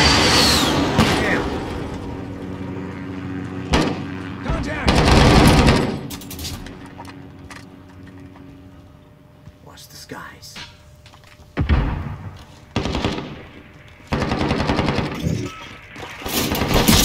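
Gatling gun fire in Modern Warfare ground war, with loud sustained rattling bursts that come and go among other weapon blasts, while players talk.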